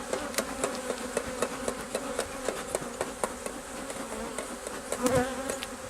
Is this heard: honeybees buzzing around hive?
yes